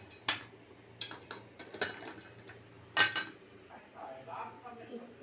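A metal pressure cooker lid is fitted onto the pot in a home kitchen, giving several sharp metallic clinks and clatters at irregular intervals, close but fairly quiet, with faint background noise.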